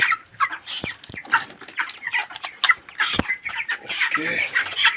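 Broiler chicks at day 21 peeping and clucking in a busy close chorus during weighing, with a few sharp knocks from handling the scale and faint voices mixed in.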